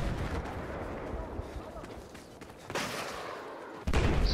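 An MG4 machine gun fires in Battlefield 4 amid rumbling battlefield noise, with bursts of heavy shots, one loud and close near the end, under continuous noise.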